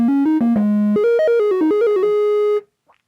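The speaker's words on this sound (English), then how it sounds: "So let's go over to a triangle wave." A soft, rounded triangle-wave synth bass tone steps through a short melodic line of sustained notes, then stops, leaving near silence.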